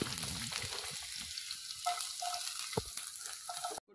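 Onions fry in hot mustard oil for a dry chicken dish, a close, continuous crackling sizzle with small pops, cut off abruptly at the end.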